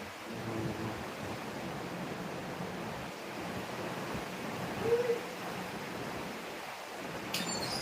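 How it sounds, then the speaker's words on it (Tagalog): Heavy rain pours down steadily as a dense, even broadband hiss that fills the scene, with a faint brief tone partway through. "Ang lakas ng ulan."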